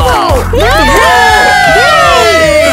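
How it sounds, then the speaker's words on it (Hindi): A crowd cheers and shouts loudly at a fashion collection showing, with high, swooping whoops and overlapping voices running without a break for the whole stretch. "अरे वाह, तालियां बज रही है।"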